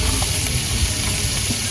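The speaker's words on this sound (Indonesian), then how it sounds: "Nah, kita ngambil udang. Goreng 5 biji ya?" Shrimp fry in oil over a camp stove at a family campsite, giving off a loud, steady sizzle and hiss up close, with no voices.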